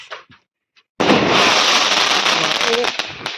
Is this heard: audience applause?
no